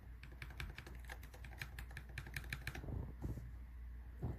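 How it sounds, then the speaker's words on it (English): Rapid typing on a MonsGeek FUN60 Pro magnetic-switch keyboard with HE sensors, a dense run of crisp keystroke clicks for about three seconds, then a few softer scattered taps over a low steady hum. "At just a little tap of a keyboard button"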